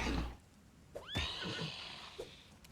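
A single horse whinny rings out close and loud in a video game, a sharp rising cry that trails off, with faint thuds around it.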